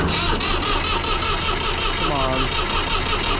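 A small 360 tractor engine cranks over and over on a weak, dead battery without catching, a steady near mechanical churn with a voice speaking briefly over it.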